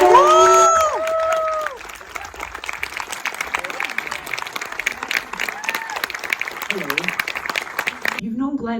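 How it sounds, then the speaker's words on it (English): Broadband audience applause in honor of filmmaker Richard Linklater runs through the whole stretch, loudest at the start with tonal vocal sounds over it, then settling into a steady, moderately loud patter of clapping. "A round of applause just for Richard Linklater, everybody!"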